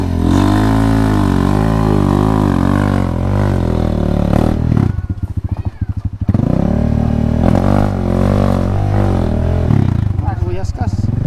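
A KTM motorcycle engine revs loudly and continuously, its pitch rising and falling, with a brief choppy idle-like stutter midway before surging again; people talk over it.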